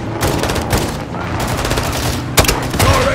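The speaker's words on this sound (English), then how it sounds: "Gaz, hit with the launcher!" Dense gunfire and launcher blasts in the Call of Duty Modern Warfare 2 (2022) campaign, a steady loud barrage of rapid shots with a sharp explosive boom near the end and voices mixed in.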